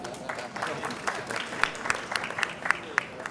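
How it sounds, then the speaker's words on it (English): Audience at an annual investment meeting on the UAE applauding, a short burst of steady, moderately loud clapping from a seated crowd in a hall. "One applause."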